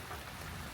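Rain pattering steadily on the leaky roof of a beach shelter on a wet day in Thailand, a dense, continuous hiss of drops with no voices.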